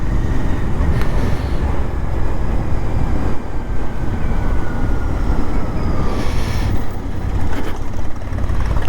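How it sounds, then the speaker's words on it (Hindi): A motorbike cruising on an open road, with a loud, steady rush of wind and engine roar that holds constant through the whole stretch, with no speech. "चल बढ़िया रही है बाकी बाइक।"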